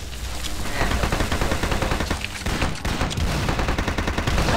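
Sustained rapid gunfire rattles through a shooting battle in the video game Nicecracker Toywars, loud and nearly continuous with dense overlapping shots from start to finish.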